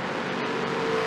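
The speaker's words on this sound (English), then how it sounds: "you can hear him just let off the throttle and then get right back to" An ARCA race car on track at Iowa Speedway easing off the throttle and then pressing it again, a steady onboard engine drone with a slight change in pitch, loud and unbroken by voices.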